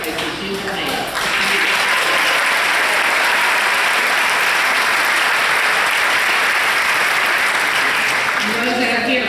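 Applause from the families at a 2016 school graduation ceremony swells into a dense, loud, sustained wash of clapping from a large crowd, with voices briefly audible at the start and end.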